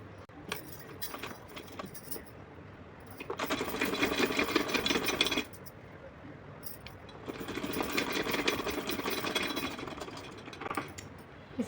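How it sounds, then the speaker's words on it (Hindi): A sewing machine stitches a small Laddu Gopal dress in two long, steady runs of rapid mechanical rattling, separated by a quiet pause with faint handling clicks. "रखने के बाद इस पर मैं सिलाई लगाऊँगी"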